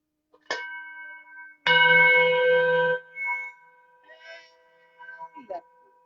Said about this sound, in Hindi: सिंगिंग बॉल थेरेपी सबने सुना होगा.